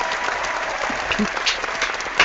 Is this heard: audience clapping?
yes